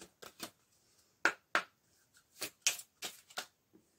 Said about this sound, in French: je vais prendre les cartes de symboles de vie